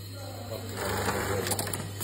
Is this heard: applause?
no